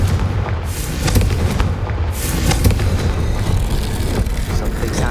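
A fiery blasting spell explodes in the Hogwarts Legacy video game, a loud, sustained rumbling boom with repeated sharp cracks layered over a heavy low roar throughout.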